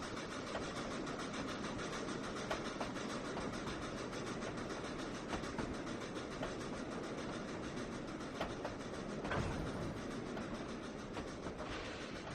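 A train in the video game Trainz 2019 rolls steadily along the rails with a continuous rumble and faint rhythmic clicks, close and moderately loud, with no voices.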